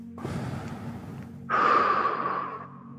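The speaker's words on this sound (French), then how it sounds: "Une respiration." A person takes a deep breath, a short inhale followed by a longer, louder exhale, close and alone.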